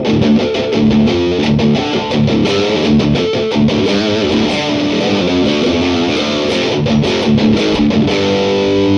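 Loud, gritty distorted electric guitar playing chugging riffs and chords continuously, with no voices.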